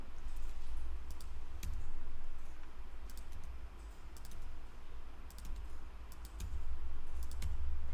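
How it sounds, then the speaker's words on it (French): Computer keyboard keys are tapped in short clusters of sharp clicks against a low steady background hum, several presses in quick bursts with pauses between, near and fairly quiet, with no talking. "ce serait peut-être bien de cliquer sur elles et de faire la touche Delete sur le clavier"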